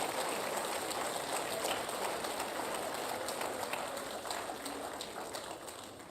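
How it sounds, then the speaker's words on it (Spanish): A church congregation applauds, a faint, distant, continuous wash of clapping that sounds like steady rain and tapers slightly near the end. "Suelte fuerte ese aplauso"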